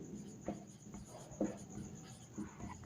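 Pen or pencil scratches out a math equation on paper in a quiet room, with a few soft, short strokes and taps spaced about a second apart.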